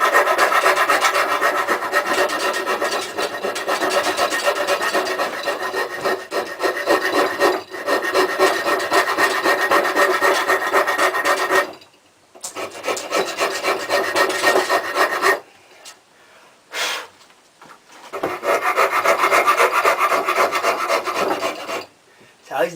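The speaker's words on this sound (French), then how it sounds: "Allez, petit coup de lime." A hand file rasps hard across wooden salad servers in long, continuous, loud strokes, close up, broken by a few short pauses and with no talking.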